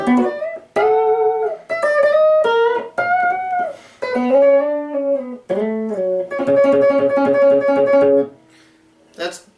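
Distorted electric guitar with delay plays a rapid progressive-metal shred lick, fast runs of bright sustained notes moving up and down, loud and close with no talking, ending in a brief quiet tail.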